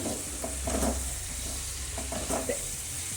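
Potatoes and fenugreek leaves are stirred in a frying pan, giving soft scraping strokes over a continuous gentle sizzle, close and moderately quiet, with no voices.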